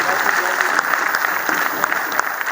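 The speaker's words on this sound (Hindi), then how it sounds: "ताली बजाओ तो अच्छी तरह बजा दीजिएगा" Audience clapping at a Teacher's Day comic poetry gathering at a university: loud, sustained applause from a large crowd, dense and even throughout with a little talk underneath.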